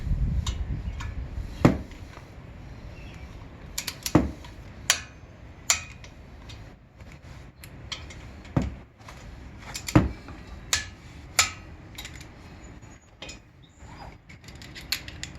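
Caliper bolts on a 2011-2018 Volvo S60/V60 brake are torqued down with a wrench, giving a series of sharp, irregular clicks and ratchet ticks up close.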